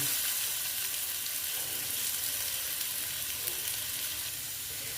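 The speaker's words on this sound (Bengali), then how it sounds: "সুন্দর করে আলুটাকে আমি ভেজে নিচ্ছি" Steady, loud sizzling of potatoes frying in hot oil, a continuous crackling hiss with no voices.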